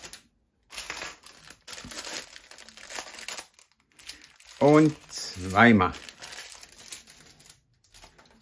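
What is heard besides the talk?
plastic bag of Lego pieces crinkling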